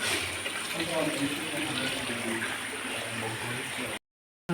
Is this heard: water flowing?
yes